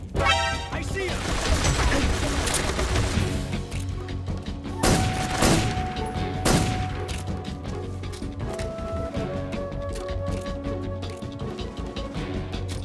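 Gunshots and impacts from the Metal Gear Solid 3: Snake Eater video game ring out as repeated sharp bangs and crashes over a busy, continuous game mix, with players talking over it.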